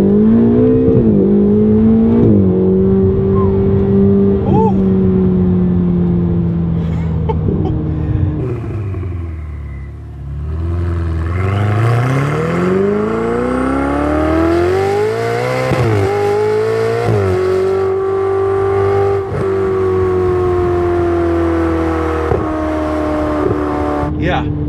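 A Ferrari 488 engine in race mode accelerates hard, its loud, rising roar climbing through the gears with a brief dip around a shift before it surges again. A voice is heard over the engine.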